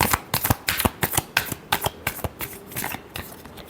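Tarot cards being shuffled close up in a quick run of crisp riffling bursts, roughly a dozen sharp flutters in a fast irregular rhythm.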